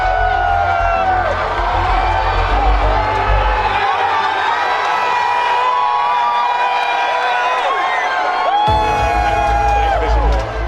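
A large crowd cheers, whoops and shouts loudly as daylight turns to darkness during an eclipse, with the roar sustained throughout and children's high shouts and excited voices mixed in.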